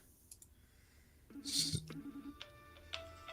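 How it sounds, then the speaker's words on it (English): A phone ringtone chirps in a short repeating pattern of faint electronic tones, preceded and followed by scattered clicks. "Oh, I'm getting a phone call"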